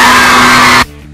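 A crowd of teenage girl fans at a Jonas Brothers event shrieks at ear-splitting volume, a dense continuous wall of screaming that cuts off abruptly.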